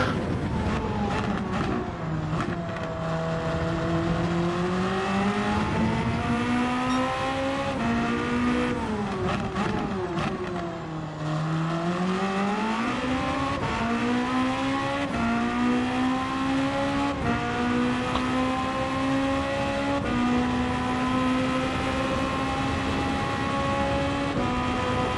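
Hypercar engines racing in Gran Turismo 7 endurance racing, a loud continuous high-revving whine rising and falling through gear shifts, with a sharp dip and climb around the middle.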